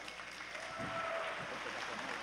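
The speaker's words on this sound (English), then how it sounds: "Please give him a big round of applause" At the Miss Chinese Seattle 2013 scholarship pageant, an audience in a theater applauds in a steady, moderately loud wash that holds evenly for a couple of seconds.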